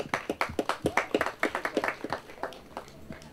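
A few people at an outdoor medieval festival give light, scattered clapping, individual hand claps distinct and uneven, fairly faint with no talking over it.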